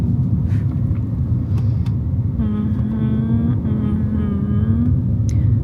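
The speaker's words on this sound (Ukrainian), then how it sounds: "Там теж машина за нами приїхала." A car drives behind along a road in Korea, a steady close rumble of engine and tyres filling the background while a brief tonal note rises and falls over it.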